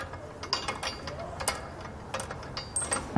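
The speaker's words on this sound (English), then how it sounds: "We're going to use a 19mm wrench or socket for your upper bolts." A socket wrench with a 19mm socket ratchets bolts while a Curt trailer hitch receiver goes onto a 2015 Mercedes-Benz, giving short, close, intermittent clicking bursts against a quiet background.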